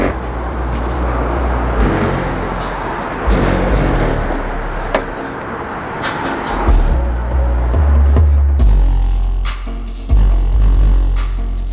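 A royalty-free beat plays loudly inside a car through a Skar 15-inch SDR subwoofer, with deep, booming bass pulses that throb and swell rhythmically throughout.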